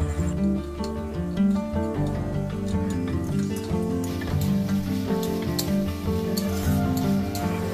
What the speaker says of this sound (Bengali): এরপর ভেজে রাখা বেগুন আর বড়ি দিয়ে দেব।